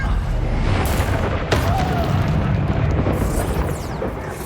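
Booming blast from the Confringo spell in Hogwarts Legacy during a big fight, a dense, loud roar of explosive noise sustained across the whole stretch with a sharper burst partway through.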